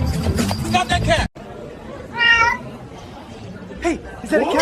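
A cat gives one clear, drawn-out meow midway, heard among excited people talking and a general background chatter.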